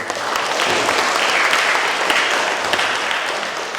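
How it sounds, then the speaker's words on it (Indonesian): Wedding guests applaud the bride and groom, a loud, dense wash of clapping from a large crowd that stays close and sustained throughout. "Kita tepuk tangan untuk keduanya."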